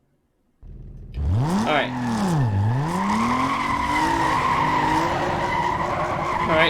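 In Need for Speed Most Wanted, a modded car engine revs up hard and the tires skid with a sweeping, swooping howl, loud and continuous, after a brief spoken word.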